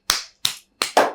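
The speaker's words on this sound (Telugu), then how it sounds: "క్లాప్స్ కొట్టండి అందరూ" A few people clap during a Telugu interview, giving four sharp, close claps spaced unevenly, with the last two coming close together.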